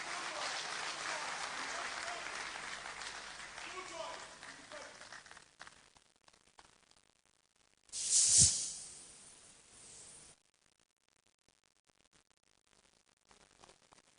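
A crowd at an outdoor political rally in Ghana applauds steadily for several seconds, the clapping thinning out, followed by a brief loud burst of noise and then near silence.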